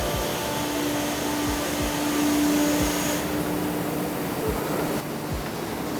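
An automated tire retreading machine at a remolding factory runs steadily, a loud continuous mechanical whir with rhythmic low thumps as rubber is ground off a used tire.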